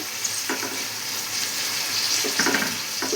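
Tomatoes, mint and coriander hit a hot pan for pulao and sizzle steadily, with a few bursts of stirring and scraping over the continuous frying hiss.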